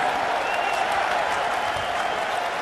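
Crowd at a college basketball game, Providence against Florida State at Mohegan Sun, applauding and cheering after a made free throw, a steady wash of claps and voices with no pauses.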